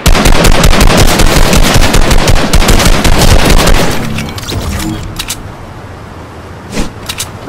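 Loud, dense bursts of automatic gunfire in a shooter video game fill the first few seconds, then thin out into quieter scattered shots and a couple of sharp distant cracks.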